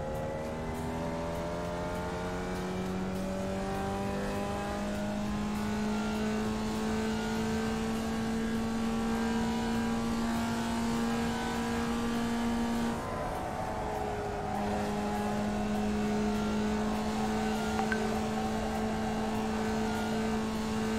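A single-seater race car engine in a racing video game drones steadily at high revs, with a smooth, constant whine that holds for a long stretch, dips briefly as the car shifts, then resumes, with no talk over it.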